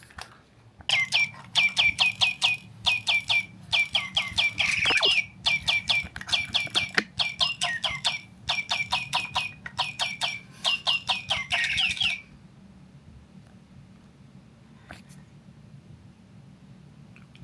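A toy bird gives off rapid, repeated chicken-like clucking bursts in a steady run for about eleven seconds, fairly loud and close over low room noise, then stops.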